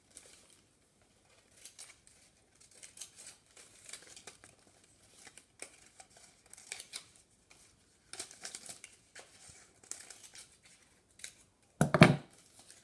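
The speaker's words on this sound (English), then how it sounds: "So I'm going to cut a square around in the centre there." Scissors cut out a square to make a paper collar for a homemade King Charles figure, with soft scattered snips through a quiet room and a sharper, louder cluster of cuts near the end.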